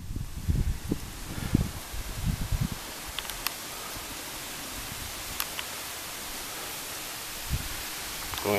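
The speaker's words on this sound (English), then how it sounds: "You hear the wind too." Wind blows outdoors beside a porch as a steady broadband rush, with a few low gusty buffets near the start and occasional faint clicks.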